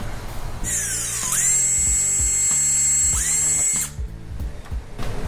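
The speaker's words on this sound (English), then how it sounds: "we're gonna have to drill these rivets out" A power drill whines at high pitch, bogging down and spinning back up as it drills out metal rivets on motorcycle fairings, with short pauses and clicks between bursts.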